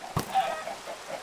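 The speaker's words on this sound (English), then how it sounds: "I cannot hit the chicken that I need to hit." Chicken clucking in the Minecraft video game, a short soft cluck after a brief thump, heard alone over faint background.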